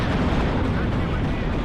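Rockets fired from a Jaguar in the WARNO video game roar and explode in a dense, continuous barrage of rumbling blasts, loud throughout.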